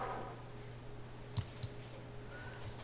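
Two sharp computer mouse clicks in quick succession, close and fairly quiet, over a low steady hum, with nobody talking.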